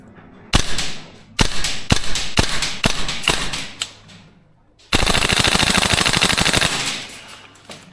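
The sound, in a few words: VFC URGI gas blowback airsoft rifle firing full auto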